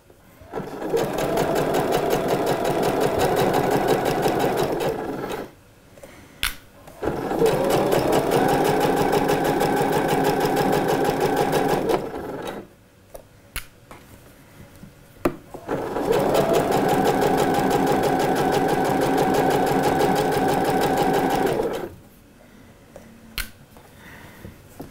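A sewing machine stitches a seam slowly and steadily for a shorts pattern, running in three long, even bursts of several seconds each with short pauses and small clicks between them, close and alone.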